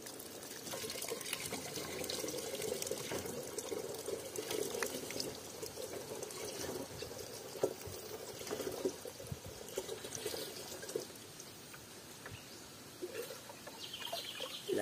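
Water being drawn by hand from a rural provincial well, with steady splashing and pouring running throughout at moderate level, while a rooster and other fowl call in the background.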